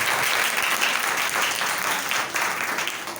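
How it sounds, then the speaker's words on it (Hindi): Dense, sustained applause from a church congregation during a Christmas sermon, loud and continuous throughout with a slight dip near the end. "जरा जोरदार तालियां बजा दें खुदा के कलाम के लिए"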